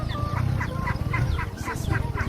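Chickens clucking in a provincial farmyard setting, a steady run of repeated calls across the whole stretch, fairly close and moderately loud, with no talking.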